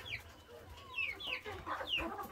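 Chickens in a backyard flock that is getting a new peacock cluck softly, several quiet, scattered calls heard from a distance over low rumbling background noise, with no one talking.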